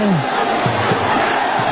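Spectators at a Thai boxing match roar and cheer in a dense, continuous crowd wash, with a commentator's voice heard briefly at the start.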